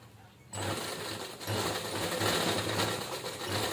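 A sewing machine runs a double line of stitching on a fabric tiffin bag, starting abruptly after a brief quiet moment and then whirring steadily and rhythmically up close, with a short hitch partway through.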